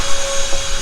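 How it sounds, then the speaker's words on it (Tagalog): A vacuum cleaner runs at a campsite, a loud, steady whine and roar held close for under a second. "Ba-vacuum tayo."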